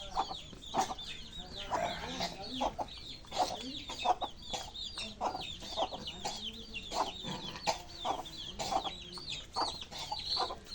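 Domestic country chickens at home cluck repeatedly in short, uneven bursts, some calls overlapping, heard fairly near but at low overall volume.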